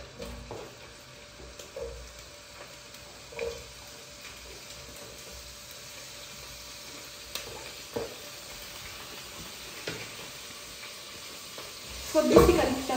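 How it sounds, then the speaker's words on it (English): Onions fry quietly in oil with a faint sizzle. Occasional soft stirring clicks come through, and a louder clatter follows near the end. "So to fry the onions."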